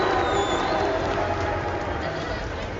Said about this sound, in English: देखो सब बू कर रहे हैं.